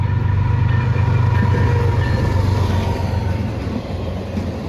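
BNSF maintenance-of-way train led by locomotive 6003, a steady loud rumble of the passing train with low engine drone and wheel noise throughout, easing slightly near the end.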